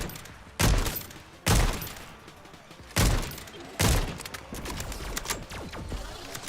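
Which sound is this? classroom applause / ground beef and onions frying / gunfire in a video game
gunfire in a video game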